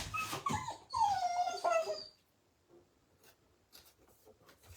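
A dog confined indoors lets out several close, high whimpers and whines, one drawn out and falling in pitch, before quiet small rustles and taps.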